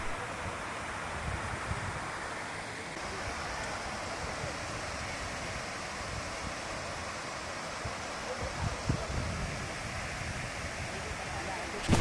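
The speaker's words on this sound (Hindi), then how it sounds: "आप आवाज़ भी सुन पाएंगे, तो आपको आवाज़ से पता लगेगा कि कितने ज़ोर से पानी बह रहा है" Forceful waterfall at Kanheri Caves, a steady loud broadband rush of falling water that holds constant throughout without break.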